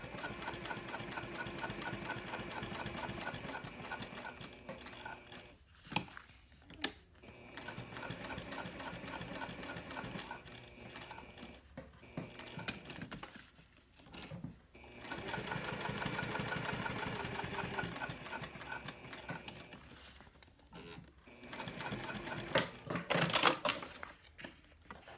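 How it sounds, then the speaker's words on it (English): A sewing machine with a Teflon foot runs in bursts, stitching the sides of a key fob wallet at a 3.5 stitch length, with a close motor whir that starts and stops several times between brief pauses. "I'm stitching just 1/8 of an inch from"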